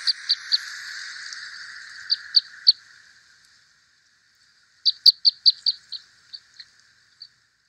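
Short, high chip notes from a Red Crossbill, type 3 flight calls recorded in New York, given in quick clusters with pauses between, clear and fairly close against a quiet background.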